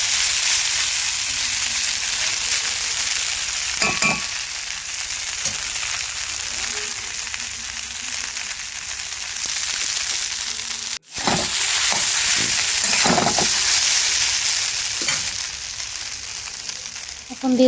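Aloo poha frying in a pan while being stirred, a steady loud sizzle with occasional scraping strokes and a sharp knock near the middle; a voice speaks faintly over parts of it.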